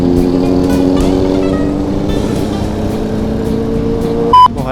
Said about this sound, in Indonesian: Oh, ada mobil.